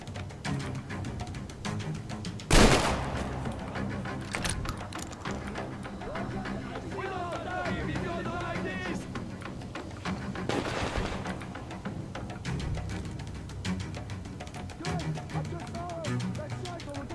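Gunfire in Metro Exodus, with a loud sharp shot and later bursts over a dense, busy game soundscape while a voice talks throughout.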